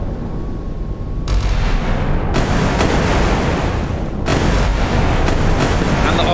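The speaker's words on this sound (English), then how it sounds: "More rockets just fired." Rockets launching and heavy explosions in a naval battle video game pitting the Kirov battlecruiser and Iowa battleship against fast attack craft, a loud continuous roar of blasts and booms with several sudden surges.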